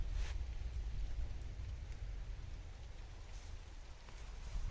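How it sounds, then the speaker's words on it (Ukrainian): Steady rain patters softly on surfaces with a constant low hiss, gentle and continuous, no talking. "А дощ іде"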